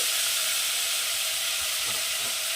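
Raw green peas being stirred into a hot, sizzling pan while cooking pasta. A loud, steady frying hiss runs unbroken throughout, close and dense, with a few soft knocks underneath and no talking.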